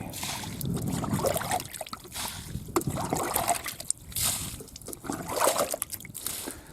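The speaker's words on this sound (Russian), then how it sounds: "Это у нас дождевая вода, пол-лодки воды. Черпать уже ведрами надо." Rainwater being scooped and poured out of a half-flooded river boat with a can, producing repeated close sloshing, splashing and trickling with uneven rhythm, no voices over it.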